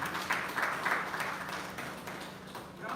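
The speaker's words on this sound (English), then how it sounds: "A round of applause for you," Audience applause at a crime reduction and prevention summit in Nigeria, a moderate, steady patter of many hands clapping in a hall, somewhat distant and continuous for several seconds.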